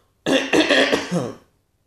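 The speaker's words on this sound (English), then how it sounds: "I had to clear my throat." A single throat clearing, close and fairly loud, a rough rasping burst lasting about a second before trailing into silence.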